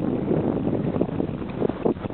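Wind buffets the microphone outdoors on a hike with hoofed animals, a loud, continuous rumbling rush with uneven gusts throughout.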